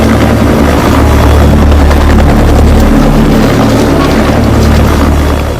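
Helicopter airlifting blocks of fossil-bearing rock from a dinosaur excavation in Antarctica, its rotor thrumming loud and steady throughout with a dense engine roar, no voices.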